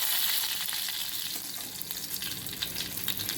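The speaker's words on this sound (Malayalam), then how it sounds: "ഇപ്പം നമ്മുടെ കടുകൊക്കെ പൊട്ടിത്തുടങ്ങിയിട്ടുണ്ട് ഇത്തിരി വേപ്പില ഇട്ട് കൊടുക്കാം" Mustard seeds popping and curry leaves sizzling in hot coconut oil for a lentil and drumstick leaf thoran, a steady crackling fry with sharper spits and pops throughout, no talk.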